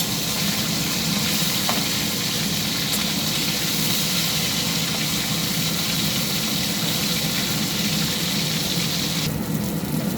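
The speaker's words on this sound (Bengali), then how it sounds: "মাছগুলো আমার এক পিঠটা ভাজা হয়ে গেছে," Marinated fish pieces frying in oil in a pan after being turned: a constant, dense sizzle and crackle, close and fairly loud, steady from start to finish with a few faint pops.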